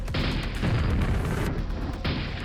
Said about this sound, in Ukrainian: По мені хтось стріляє